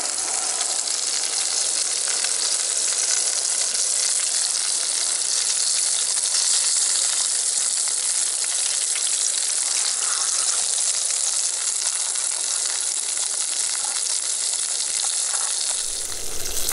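Food frying in a back country skillet, a loud, continuous close hiss of sizzling that holds steady throughout with no voice.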